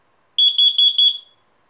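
A Nest Protect battery smoke and carbon monoxide detector sounds its test alarm: four loud, shrill, evenly spaced beeps in quick succession, close and alone in a quiet room.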